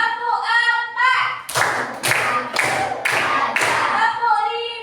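A group claps hands in a brisk rhythmic burst of about five sharp claps during an exercise, coming after and alongside chanted voices.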